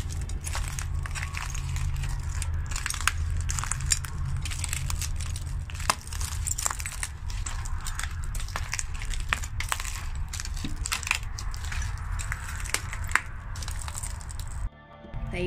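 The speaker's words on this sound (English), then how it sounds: "I hope you enjoyed me walking over broken glass, just for you." Footsteps crunch over broken glass inside an abandoned building, a dense run of crackling and crushing that goes on almost without pause, close and fairly loud throughout.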